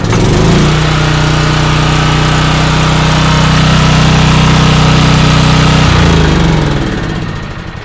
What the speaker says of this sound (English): First up with the generator.